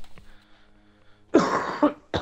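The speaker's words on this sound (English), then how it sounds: "And I started coughing this morning." A short burst of coughing after a quiet stretch, a loud rough fit lasting about half a second, then a brief second cough at the end, close to the listener.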